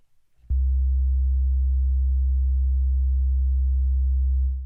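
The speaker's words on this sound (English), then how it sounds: "let's take a look at what this sine wave is doing on the frequency spectrum and also what it sounds like" A deep, steady bass sine tone starts abruptly after a brief soft noise and holds at constant loudness for several seconds before fading slightly.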